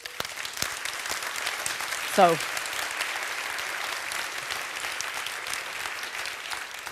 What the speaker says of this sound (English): So we applaud you, doctors